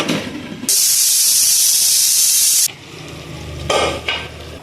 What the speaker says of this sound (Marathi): आता आपण कुकरचं झाकण बंद करूया आणि एक शिट्टी काढून घेऊया